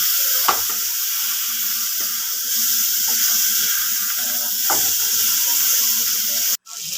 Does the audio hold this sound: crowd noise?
no